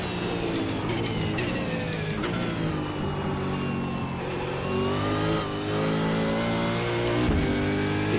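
Supercars race car in iRacing at Bathurst, engine revving hard with rising and falling pitch through gear changes, loud and steady throughout, with other cars faintly audible.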